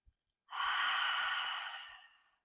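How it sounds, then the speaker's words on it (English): A single long, deep exhale during yoga breathing, a soft airy rush close to the mic that swells and slowly fades over about two seconds in an otherwise quiet room. "inhale very deeply through your nose. As you breathe out, release, let it go"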